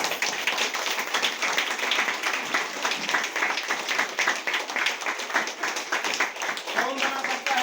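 A crowd at a motivational business talk claps steadily and loudly for several seconds, producing rapid, overlapping hand claps in an even rhythm, with some voices in the mix.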